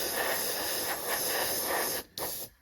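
Airbrush spraying AK paint across the top of a large 1/72 scale Matchbox Wellesley Mk.1 model aircraft wing, a steady close hiss that cuts off briefly near the end, then restarts and fades.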